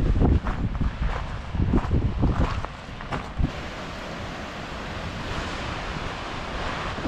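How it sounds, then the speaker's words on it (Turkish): Gluga Falls in Iceland, water pouring through holes in basalt rock, makes a steady broadband rush and roar, with louder gusty bursts early on and then settling into a constant hiss. "Bir başka şelaleye geldik. Gluga Falls."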